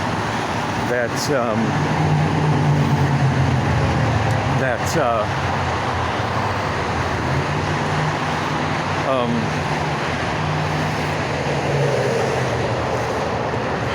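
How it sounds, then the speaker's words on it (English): Loud, steady roar of freeway traffic with passing vehicles swelling and fading, continuous throughout while someone talks over it. "The freeway traffic's loud."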